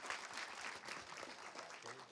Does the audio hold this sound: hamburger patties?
no